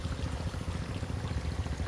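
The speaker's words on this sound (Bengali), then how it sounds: "দেখুন সব লাইনে এরকম পানি যাচ্ছে" Irrigation water flows steadily through pipe lines into channels around the base of dragon fruit plants on a farm, a continuous close rushing, pouring wash with no voices.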